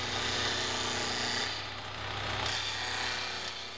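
A skew chisel takes a clean cut along a wooden coffee table leg spinning on a lathe, giving a steady, continuous scraping whir over a low motor hum throughout.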